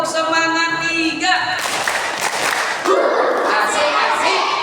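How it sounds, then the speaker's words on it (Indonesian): A group of children does rhythmic 'tepuk semangat' clapping at a Ramadan gathering, a close burst of claps mixed with shouting voices, ending in a loud cheer. "Tepuk semangat 3"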